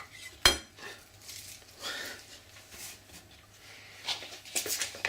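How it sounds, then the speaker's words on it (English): Chopped onion pieces dropped into a cooking pot in a kitchen, giving a sharp clatter at the start followed by scattered soft knocks and scrapes of dishes and utensils. "All goes in the pot."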